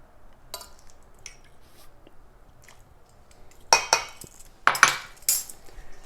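Lemon lavender cookie dough being mixed in a bowl: soft, quiet scraping at first, then a cluster of louder scrapes and clinks near the end.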